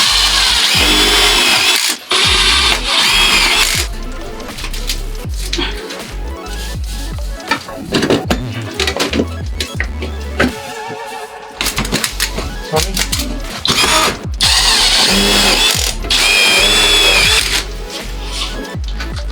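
A power drill drives screws while storm damage from Hurricane Ida is being repaired. It sounds as loud, close whirring bursts that start and stop repeatedly, with brief pauses and clattering handling noises between them.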